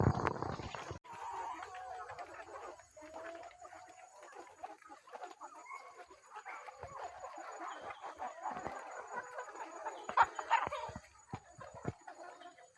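Chickens at a poultry farm cluck and call in a busy, continuous flock chorus at moderate distance, with scattered sharper squawks standing out now and then.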